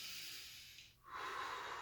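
One audible breath during a slow exercise routine: a long breathy exhale, a short pause, then a strong inhale, close and alone.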